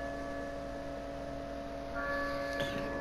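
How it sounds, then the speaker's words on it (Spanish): Church bell tolling in the Resident Evil 4 Separate Ways game, a steady sustained ringing hum that swells slightly near the end, with no talk over it. "cuando toca la campana, es Eida que que toca la campana de la iglesia"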